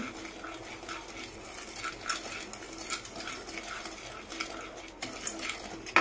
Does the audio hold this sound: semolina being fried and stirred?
yes